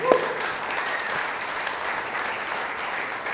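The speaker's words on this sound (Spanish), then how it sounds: "¿Por qué no das unas fuertes palmas?" A church congregation claps loudly at the close of a prayer during a service, producing a continuous wash of applause at a steady level with one sharp clap standing out at the very start.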